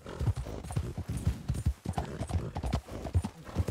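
Horses' hooves clopping and stomping in the video game Red Dead Redemption 2, a busy close series of loud irregular thuds throughout, with a faint whinny at times.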